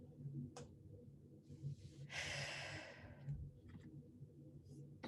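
A deep breath drawn in during a guided grounding meditation, a long airy inhale of about a second in the middle of soft, quiet room tone, with a few faint clicks around it.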